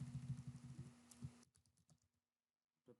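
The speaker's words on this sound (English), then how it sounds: "I'm going to type here add fxml" Computer keyboard typing while coding in the NetBeans IDE, starting as a dense run of quick, close keystrokes that thins to a few scattered taps and then silence, ending with a short burst of keys.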